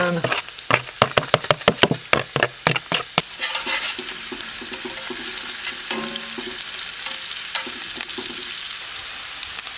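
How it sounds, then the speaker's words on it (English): Onions tossed into melted fat in a pan inside a tent give a run of sharp knocks and clatters, then settle into a steady, loud sizzle with occasional stirring scrapes. "I'm going to throw the onions in."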